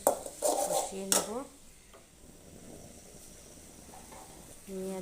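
Onions and garlic paste stir-fried in a pan for a home-made egg dish: utensil clatters and scrapes against the pan at the start, then a soft steady sizzle, with a few more clinks near the end.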